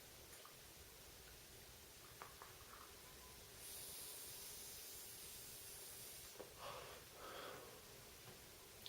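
A long hissing exhale of e-liquid vapour from vaping, with a soft breathy rush that swells mid-clip and then tapers off with a few short puffs, faint and close, with no talking.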